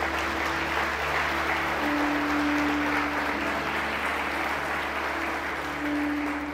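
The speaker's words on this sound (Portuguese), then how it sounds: "Você pode dar um aplauso a Ele por esta palavra." A church congregation at an evening conference applauds in a long, steady wash of clapping that sounds roomy and somewhat distant, with a low sustained tone humming beneath it.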